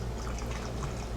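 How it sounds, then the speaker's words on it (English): Whiskey poured over ice: a short, steady liquid pour with a continuous trickling wash, close and fairly quiet, with no talking. "And then I'm going to pour it on the rocks,"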